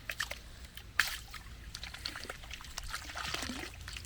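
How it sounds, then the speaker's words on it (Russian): Water trickles and splashes as a jar is washed, faint, irregular pouring and sloshing with small clinks, close by and fairly quiet. "мне банку помыть надо"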